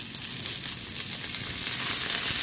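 Fish frying crispy in hot oil, a steady bright sizzle with constant crackling spatter, close and even throughout with no voices.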